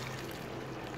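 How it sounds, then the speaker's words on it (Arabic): Water or broth poured into a pan of browned pasta, a brief steady pouring and bubbling hiss heard close up with no voices. "هنحط لها تاني شوية مية او شوربة"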